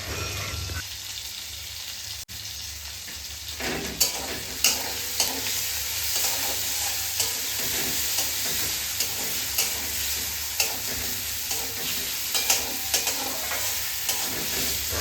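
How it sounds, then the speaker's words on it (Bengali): Spices fry with green chili and black pepper in a pan, a continuous soft sizzle broken by irregular scraping and clinking strokes as the mixture is stirred, close and moderately loud. "আমার এই সমস্ত উপকরণগুলোকে হালকা নেড়ে ছেড়ে নেব"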